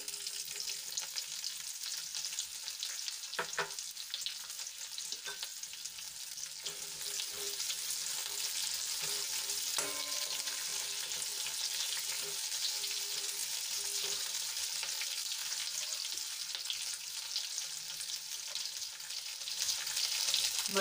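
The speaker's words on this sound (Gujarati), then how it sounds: "હવે એમાં આપણે ડુંગળી ઉમેરી દઈશું." Onions frying in a pan with bay leaf, a cinnamon stick, cloves and star anise for a capsicum curry, a continuous bright hiss that holds steady and swells slightly near the end, with a few faint clicks.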